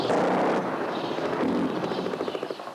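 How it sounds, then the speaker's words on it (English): Gunfire and tank shell blasts from the direction of the Palestinian Preventive Security Headquarters in Ramallah form a dense, loud, rumbling roar, with a run of sharp, rapid pops near the end. "Sounds of gunfire and tank shells coming from the direction of the Palestinian Preventive Security Headquarters in Ramallah."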